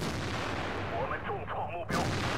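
A T-34-3 tank's main gun in World of Tanks fires a dense, heavy cannon blast that fills the clip, with a second sharp report near the end over steady battle rumble.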